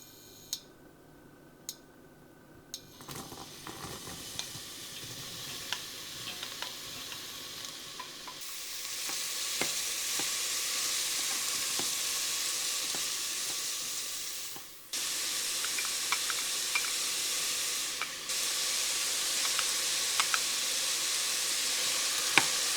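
Onions, garlic and ginger fry in oil in a pan for a ginger and carrot soup, a steady close sizzle that swells louder after a few seconds, with occasional stirring clicks and no talking.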